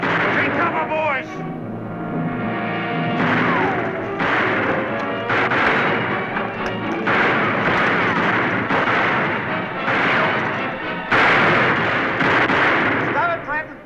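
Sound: gunfire shootout in a western TV show

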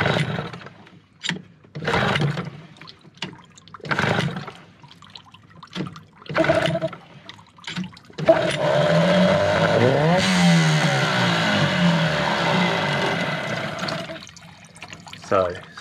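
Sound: outboard boat motor starting and running

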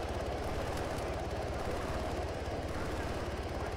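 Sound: helicopter flying in video game ARMA 3

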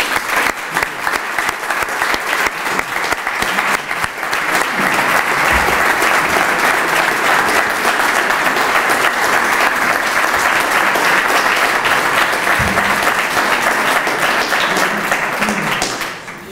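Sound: strong applause for Pepe Tatay

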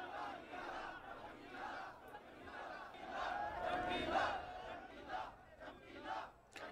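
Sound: rowdy crowd shouting

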